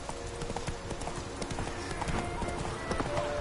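Horse hooves in The Witcher 3 game clip-clopping at a steady pace over dense ambient game sound, close and continuous.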